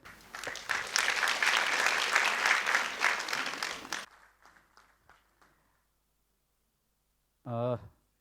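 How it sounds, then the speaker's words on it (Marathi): Loud sustained applause from an audience at an award ceremony for an anniversary celebration, cutting off abruptly after about four seconds, followed by a few faint scattered claps and a brief voice near the end. "पुन्हा एकदा जोरदार टाळ्या आपण वाजवूयात"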